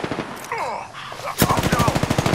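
Rapid automatic gunfire in the video game Apex Legends, a burst of quick shots closing the clip after scattered game effects and a voice speaking.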